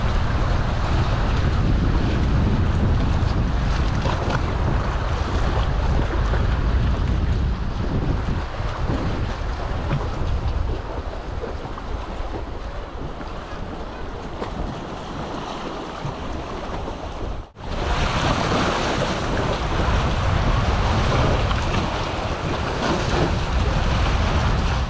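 Stormy wind roars across Lake Starnberg with waves washing below it, a loud, unbroken rush of gusts buffeting the microphone and cutting out for a moment only once.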